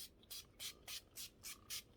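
Makeup setting spray misted onto a face in six quick, evenly spaced hissing bursts, close and quiet.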